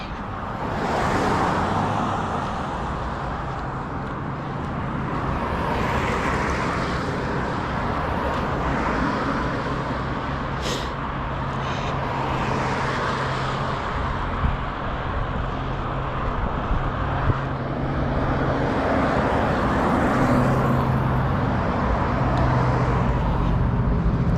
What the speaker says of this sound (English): Back to the noisy traffic.